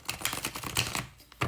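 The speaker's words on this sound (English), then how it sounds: "This is the fourth shuffle" Tarot cards are shuffled by hand in a dense, continuous run of quiet papery riffles and flicks, close and soft, with no talking.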